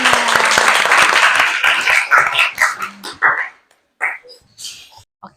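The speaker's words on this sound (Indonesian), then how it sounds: "tepuk tangan dulu dong buat temennya." A class of eighth-grade students in a classroom claps for a classmate, dense applause that tapers into a few scattered claps, with a student voice and brief shouts as it dies down.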